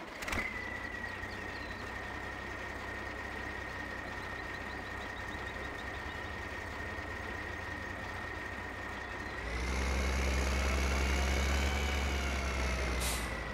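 The in-game engine of an old Zetor Crystal tractor, rated at 121 horsepower, drones steadily with a sustained tonal whine. Near the end the revs climb, the pitch rises and the sound gets louder.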